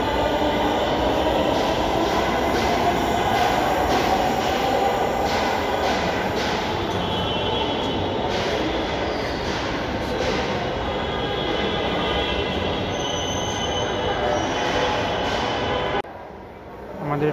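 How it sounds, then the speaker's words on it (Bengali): A metro train pulling into a crowded station, a loud continuous rumble and rattle of wheels with faint squeals, sustained for many seconds before easing off, with people talking underneath. "আমাদের ট্রেন চলে আসছে।"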